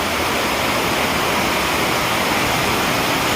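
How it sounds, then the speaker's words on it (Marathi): Heavy rain pours down in a steady, dense roar of water, loud and unbroken throughout with no voices. "जोर जोरात आवाज येतोय आपल्याला पाणी पाणी होतं एवढा सारा पाऊस चाललेला आहे"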